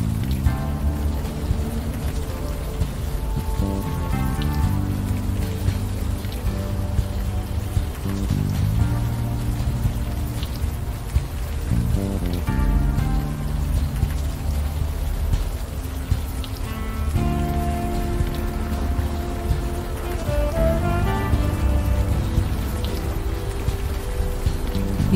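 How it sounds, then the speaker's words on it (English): Steady rain falling in the point-and-click game Unavowed, a constant soft patter and hiss running beneath layered background music throughout. "Still raining."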